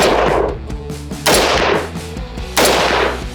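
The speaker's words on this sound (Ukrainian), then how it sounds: "Робимо три постріли." Three loud military rifle shots from 7.62x51 NATO (.308) rounds, fired at a sand-covered armor plate in a test, each a sharp crack with a long decaying tail, spaced over about three seconds.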